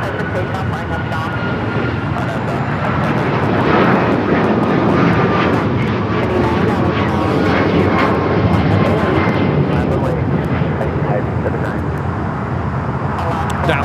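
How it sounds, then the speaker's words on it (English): An Alaska Airlines Boeing 737 MAX 9 jet takes off at LAX, a loud, sustained roar of jet engines holding steady throughout, with voices talking faintly underneath. "1334 taking off to Belize City on the MAX 9."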